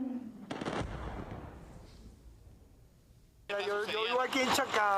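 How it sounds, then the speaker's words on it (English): Several explosions bursting over Caracas at night during an apparent attack, with sharp blasts and a rumbling low-end boom early on, then a quieter stretch before loud bursts return, mixed with voices talking. "This user-generated video appears to show multiple explosions lighting up the night sky over Caracas."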